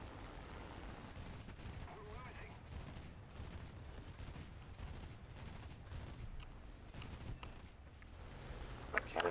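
Aircraft cannon fire in War Thunder air arcade, rapid rattling bursts with mechanical clatter running continuously under engine noise, ending in a sharper pop.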